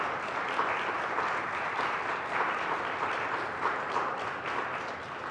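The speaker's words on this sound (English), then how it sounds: "So a round of applause for every presentation that we just heard." An audience at an online equity conference applauds the presentations with steady, sustained clapping that holds at an even level from start to finish.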